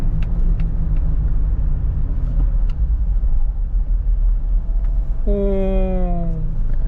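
A manual Mitsubishi Montero's engine rumbles steadily in low gear while driving, with a continuous deep drone and a brief rising whine near the end.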